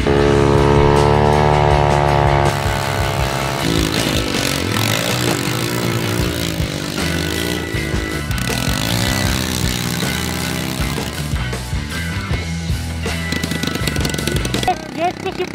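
A scooter rebuilt into an airplane, its small engine revving and droning loudly with rising and falling pitch sweeps, while people shout and talk over it.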